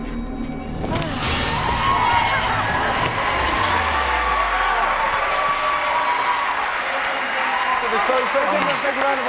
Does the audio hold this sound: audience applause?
yes